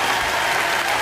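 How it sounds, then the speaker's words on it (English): Brief burst of round-of-applause clapping from a small group on a Jokers Wild game show set, dense and even, with no talking over it. "I wanted to give you a round of applause for having this"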